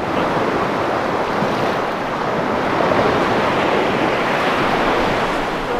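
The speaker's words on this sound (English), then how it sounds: "That's my first touch ever of the Caspian Sea." Waves rolling onto the Caspian Sea shore, a loud, constant wash of surf close by with wind buffeting the microphone, no voices.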